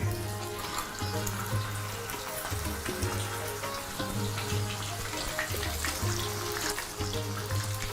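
Prawns sauteing in hot oil for a Bengali chingri malai curry, a steady close sizzle and crackle with rhythmic lower tones underneath, continuous and fairly loud, no talking.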